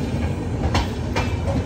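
A Lucknow to Mumbai express train passing close by, its wheels producing a steady rumbling clatter with two sharp bursts of clickety-clack from rail joints.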